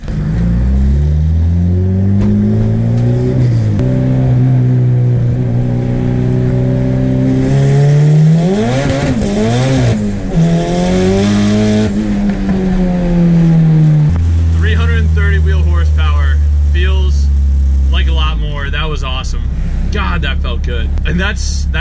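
Turbocharged Honda B18C car on high boost accelerating hard through the gears, a loud rising engine roar that climbs, drops at shifts and climbs again, heard close from inside for over twenty seconds with turbo whoosh near the end.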